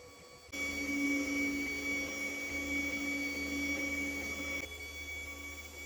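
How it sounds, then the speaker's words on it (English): A 3D printer starts up and hums steadily with a whirring motor tone while laying a skirt around the print, close and moderately loud, then drops back to a quieter background hum. "Now the first thing it does is it prints a little skirt around it."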